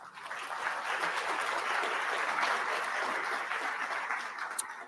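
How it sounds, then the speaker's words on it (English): A forum audience at a transit event claps steadily for several seconds, a moderate round of applause that fades out at the end. "Let's give them a round of applause."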